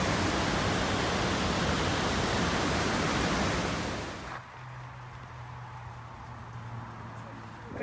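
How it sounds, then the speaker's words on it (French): Waterfall at Sept-Îles, Québec: a loud, dense rushing roar that cuts off abruptly about halfway, leaving a quieter low hum. "Et voilà la fin des chutes."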